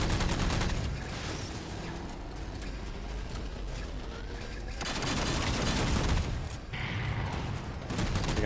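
Loud, sustained bursts of gunfire from a Halo 4 multiplayer match, with heavy overlapping shots and blasts that pause briefly before the firing resumes.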